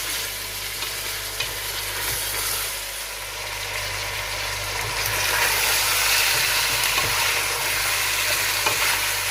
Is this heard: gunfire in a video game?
no